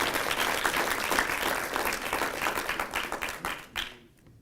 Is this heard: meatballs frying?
no